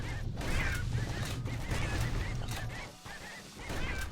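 Demon birds in the Bastion video game: harsh honking squawks repeat over a dense, noisy background, loud and close, with a brief dip near the end and no talk.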